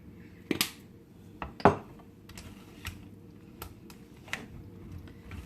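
Keto slaw being stirred with cayenne pepper in a bowl, a few sharp clinks and scrapes of a utensil against the bowl spaced irregularly over quiet kitchen background.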